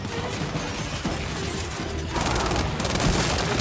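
Rapid weapon fire in the video game Gears 5, a sustained dense burst of shots and impacts throughout, loud and continuous with a brief crashing shift partway, no talking.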